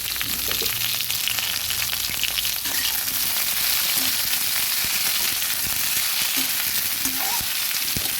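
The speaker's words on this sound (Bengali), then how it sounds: "ঝিঙে আলু ফলটা কিছুটা ভেজে নিলাম" Ridge gourd and potato pieces fry in a pan of oil, a steady close hiss and sizzle with faint crackles and occasional stirring clinks, no talk.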